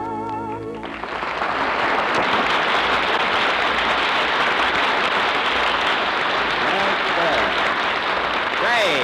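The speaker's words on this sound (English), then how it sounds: "I wonder where all that applause came from" A large studio audience breaks into loud, sustained applause after a song at a radio comedy show, a dense roar of clapping that follows a brief musical ending and stays steady throughout.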